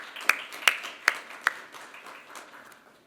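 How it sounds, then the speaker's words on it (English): A few sharp claps ring out at a graduation sash ceremony, then scattered light clapping continues and fades, thin and sparse rather than a full crowd's applause. "if we could give you all a round of applause now"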